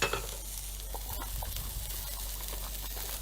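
Diced red onion and a clove of garlic fry in a hot pan while being moved around, a steady close sizzle with faint stirring scrapes over a low hum.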